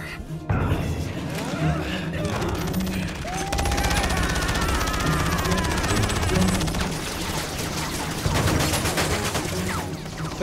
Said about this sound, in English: They just shoot blindly.